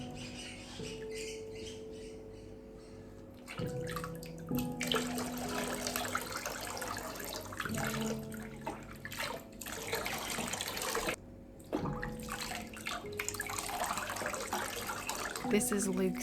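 Water splashes and trickles in a kitchen sink as a face washer is soaked and squeezed out during a baby's bath, with intermittent close dripping and sloshing under occasional talk and a baby's squawks.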